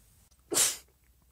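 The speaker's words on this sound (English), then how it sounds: "Sneeze." One sharp, close sneeze bursts out in a quiet setting and fades within a fraction of a second.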